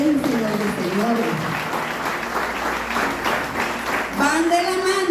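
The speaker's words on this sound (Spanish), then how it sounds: "Yo creo que eso merece un aplauso al Rey del Rey y Señor de Señores." A church congregation claps steadily in a reverberant hall, while a voice speaks and calls out over the applause and briefly rises louder near the end.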